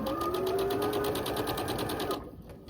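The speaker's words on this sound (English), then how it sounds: "We're gonna match it up and run it through the machine." Sewing machine stitching folded quilt fabric for a Martha Washington block, a fast, even run of close mechanical stitching that slows and stops near the end.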